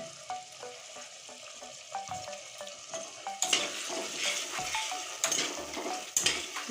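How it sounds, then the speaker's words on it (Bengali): Soybean and potato curry spices sautéed with salt in a pan: a utensil clinks and scrapes rhythmically against the pan over a soft sizzle, then the frying swells louder and denser with more stirring, close by, no talking. "লবণ দিয়ে আরও কিছুক্ষণ আমি কষিয়ে নেব"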